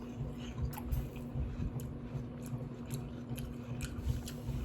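Watermelon being eaten close to the mic, with soft wet bites and steady squishy chewing running throughout, no talking.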